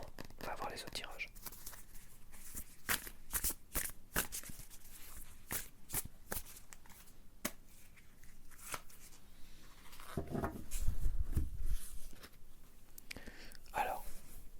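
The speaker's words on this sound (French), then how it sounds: "je vais tirer la carte de tarot de 2025" Tarot cards being shuffled and drawn close to the microphone, with a rapid series of crisp, soft card flicks and slides, while a voice whispers quietly throughout.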